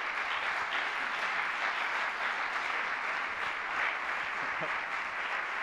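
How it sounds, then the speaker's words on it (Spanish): Steady applause from an audience at an international forum on democracy and totalitarianism, a dense even wash of clapping holding at moderate level throughout with no gaps. "Un aplauso."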